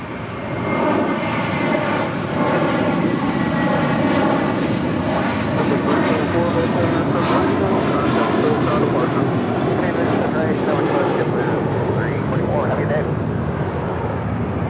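United Airlines Boeing 757-300 jet at LAX, a loud sustained engine roar and rumble lasting throughout, with a voice talking over it.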